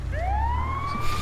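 An ambulance siren in the Grand Theft Auto video game rises in a clear upward wail over a low engine rumble, loud and close.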